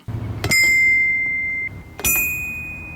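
Two bright metallic foot bell strikes, about a second and a half apart, each ringing with a clear sustained tone over low background rumble.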